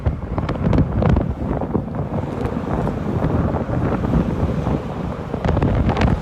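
Strong windstorm gusts battering the microphone outdoors at sunset, a loud continuous roaring rumble with buffeting surges throughout.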